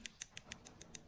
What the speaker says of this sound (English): that is the clicking noise that you want when your acrylic is set